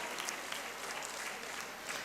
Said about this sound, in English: Give a big clap to Charumita.